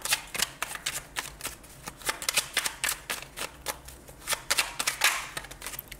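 Oracle cards are shuffled by hand for a card reading, giving a close series of quick papery riffles and slaps in an uneven rhythm, with no voice over them.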